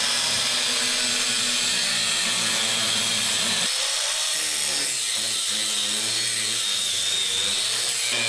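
Power tool cutting open the jammed hood of a project car, a loud continuous whining grind that shifts in pitch partway through as the cut goes on.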